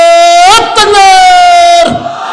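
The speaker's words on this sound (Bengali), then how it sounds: "একবার তাকবীর দেওয়া লাগবে" A large crowd at a Bangla waz sermon shouts the takbir "Allahu Akbar" together in one loud, sustained chant that swells and then breaks off.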